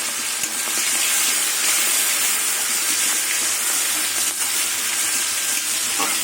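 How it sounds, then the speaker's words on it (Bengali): Prawns added to hot oil with green chillies give a loud, steady, close sizzle and crackle that holds evenly without talk. "এবার চিংড়ি মাছ দিয়ে দেবো।"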